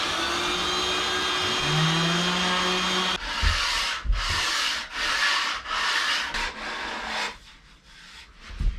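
Hand sanding of wooden boat steps with sandpaper during a restoration, heard as a run of about six steady rasping back-and-forth strokes, close and fairly loud, following a few seconds of duller rubbing and hum, with no talking.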